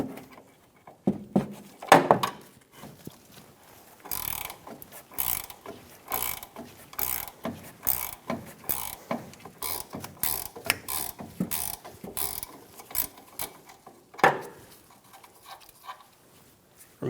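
Ratchet wrench clicking in quick bursts as it spins a rear shock nut loose on a 2005-2015 Toyota Tacoma, up close with brief pauses between runs of clicks.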